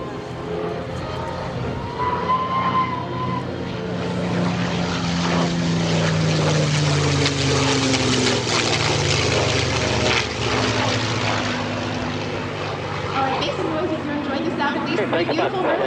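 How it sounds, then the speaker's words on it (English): Aerobatic propeller airplanes fly a head-on cross at an airshow, their engine drone loud and continuous, with rising and falling pitch as they maneuver, while an announcer talks over the sound. "keep your eyes on Louis Ariel as they reposition for a head-on cross"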